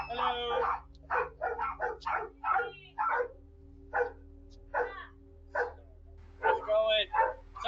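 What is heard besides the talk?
dogs barking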